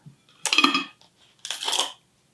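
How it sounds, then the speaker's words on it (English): Plastic Petri dishes for a sediment lab are handled and set down on a bench, two short clattering, rattling bursts close by with silence between them. "I've got some Petri dishes set up here as a base"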